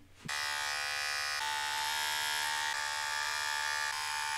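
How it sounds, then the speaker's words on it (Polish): Electric shaver shaving a beard: a click as it switches on, then a constant close, loud mechanical buzz that varies slightly in tone as it moves over the stubble. "Kradniesz staremu golarkę spod prysznica i się golisz"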